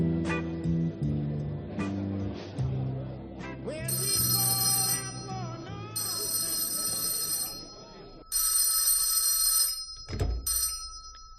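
In a radio drama, an office telephone bell rings in three long bursts, then a shorter one, with a clatter as the receiver is picked up, over talk and music.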